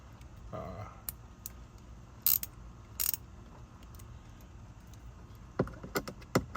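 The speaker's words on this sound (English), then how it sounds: "use whatever tool you decide to use to tighten these screws in properly." A hand tool tightens small screws on a digital car instrument cluster, giving sharp scattered clicks and ratcheting ticks, sparse at first, then quicker in a short cluster near the end, close by.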